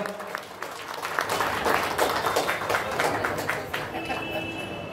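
Applause from an audience at a stage event during an anniversary celebration: a swelling wash of many hands clapping, rising then holding, with a voice heard over it.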